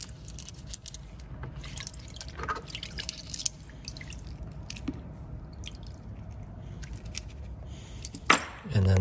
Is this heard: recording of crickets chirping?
no